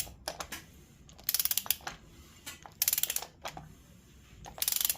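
Mazda 13B bridge-ported rotary engine's crankshaft turned by hand on an engine build, faint quiet ratcheting clicks and mechanical ticking in short irregular bursts, no talk.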